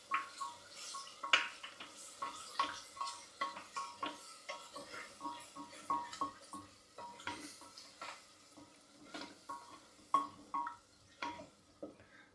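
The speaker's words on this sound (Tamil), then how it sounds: "ஒரு நிமிஷம் மட்டும் இப்படி வதக்குங்க போதும்" A spoon stirs and scrapes in a pan with rhythmic clinks and soft sizzling, steady repeated strokes at close range.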